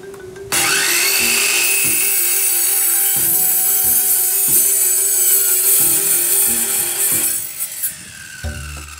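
A Takagi EARTH MAN 165mm chip saw cutting machine cuts through metal, with a loud, steady high-pitched grinding whine over a low, rhythmic thumping, which then winds down into a few clanks.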